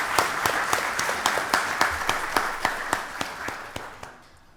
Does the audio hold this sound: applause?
yes